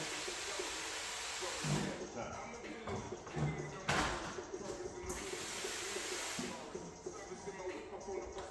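A soft, steady steam hiss from a steamer used during a wet install of paint protection film on a car runs throughout with occasional brief bursts, under a man's low speech.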